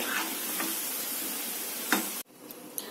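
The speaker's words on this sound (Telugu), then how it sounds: "కొద్దిగా వేగాలండి బాల్స్. కొంచెం పచ్చి ఉంది అక్కడక్కడ." Vegetable manchurian balls sizzle steadily in hot oil at close range, a continuous frying hiss with small crackles and pops, then a sharp drop in level near the end as a few scattered pops remain.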